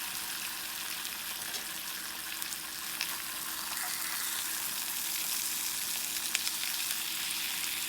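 Pre-cooked Aldi Greek gyro meat, one piece still partly frozen, heats in a pan with a steady close sizzle and occasional crackling pops, no talking.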